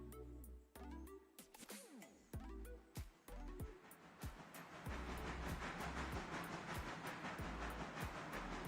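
A diesel locomotive train moves along the rail line, with rumbling engine tones, squeals and steady clickety-clack building into a continuous loud roll of railcars in the second half.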